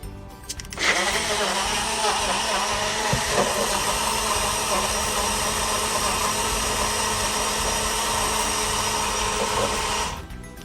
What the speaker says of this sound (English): I think this blender will fry if I blend it too long.